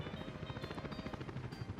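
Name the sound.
helicopters flying by in Workers & Resources video game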